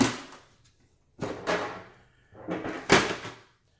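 The side panel of a PowerMac G5 Dual 2.7GHz tower is opened: a few close clunks and scraping slides of the metal case in separate bursts with short pauses between.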